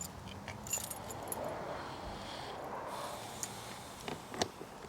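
A bunch of original Yamaha motorcycle keys, kept with the luggage case keys, jangles quietly for several seconds in a small room. It makes soft, scattered metallic clinks.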